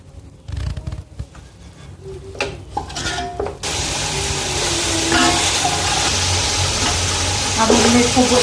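Meat and spices browning in a pot for pulao, first a few clatters and stirring knocks, then a loud steady sizzling hiss that fills the rest, close up.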